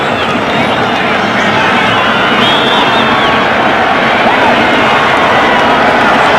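A sellout stadium crowd of 66,000 at the 1980 Fiesta Bowl, Penn State against Ohio State in Phoenix, Arizona, roars as one continuous loud wash of cheering and hubbub, with a faint voice talking underneath.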